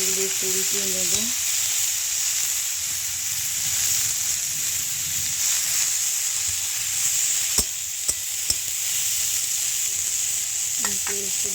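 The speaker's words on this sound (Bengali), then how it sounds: "পটলগুলি ভাজা হয়ে গেছে" Pieces of pointed gourd frying in oil in a pan for a gourd and prawn dish, heard as a steady, close hiss of sizzling with a few sharp utensil clicks, a brief voice at the start and again near the end.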